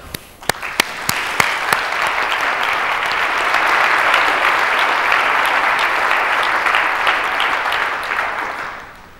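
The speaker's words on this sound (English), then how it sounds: "let me welcome him here by giving him a, a big applause" An audience at a tutorial on high performance computing in cryptography welcomes a speaker with applause, opening with a few sharp individual claps that swell into sustained, dense clapping before fading out.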